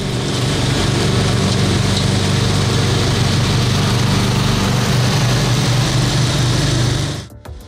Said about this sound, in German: Wir haben zwei Sichelmäher von Husqvarna miteinander verglichen.